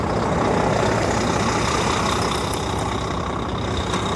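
A 2005 Volvo day cab semi truck with a D13 diesel idles steadily in cold weather, a close, even low rumble with no talk.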